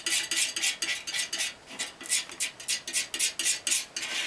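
A palette knife mixes a tiny amount of Phthalocyanine Blue paint into a small pile of color, making close, rhythmic scraping and tapping strokes on the palette with no talk.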